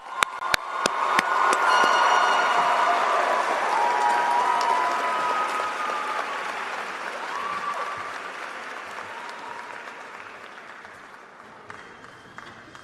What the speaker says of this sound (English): Let's give KJ and his family a big round of applause